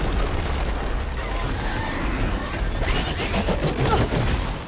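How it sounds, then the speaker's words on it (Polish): Explosives blow up in the video game Horizon Forbidden West, a loud rumbling boom followed by a sustained roar of debris and crackling that swells again near the end. "środki wybuchowe"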